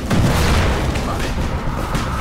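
A deep, rumbling firecracker explosion booms out in the video game Dying Light, a dense low-frequency blast that rolls on for a couple of seconds.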